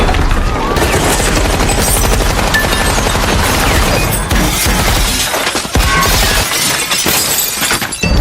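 Intense gunfire and shattering glass from an action scene in the film Red 2: loud, dense bursts of rapid shots with breaking debris, continuous and chaotic throughout.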